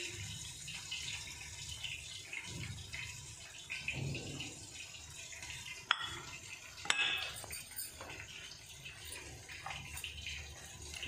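Spices being stirred into yogurt for mutton karahi, a soft wet mixing with light clinks of a spoon against the bowl and a couple of sharper taps, steady and close throughout.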